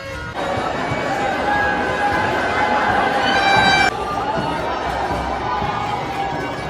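At the Holi festival outside Hawa Mahal in Jaipur, a large crowd fills the air with steady, dense chatter and shouting, a voice cutting through briefly and then the din continuing.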